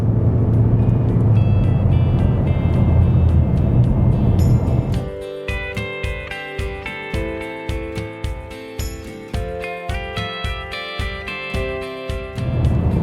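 A Mazda 3 Sedan with the Skyactiv-X engine drives on the road, giving a dense, steady rumble of engine and road noise for about five seconds before a rhythmic, tonal pattern covers it.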